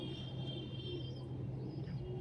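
Pigeons coo from niches at the 108 Shiva temples of Kalna, soft low calls over a steady outdoor background hum with no talking.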